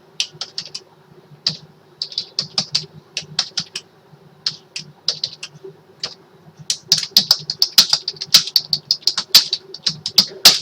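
Keys clatter in irregular bursts of quick taps, pausing briefly between flurries, close and crisp, with a faint steady hum underneath.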